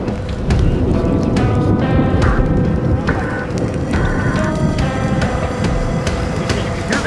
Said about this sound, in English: You can hear the hail hitting thing.